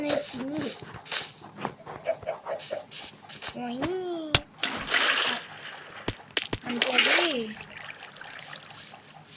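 Splashing water and trickling sounds from Minecraft, in short bursts among other game effects and a person talking over them.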